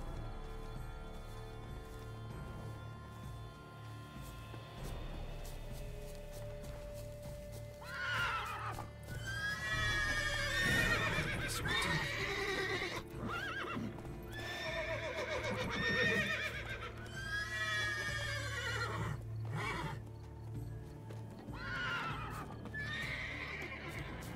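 A horse in The Witcher 3: Wild Hunt, Blood and Wine expansion, gives several loud, shrill whinnies in bursts over steady clip-clopping hooves and a low game ambience.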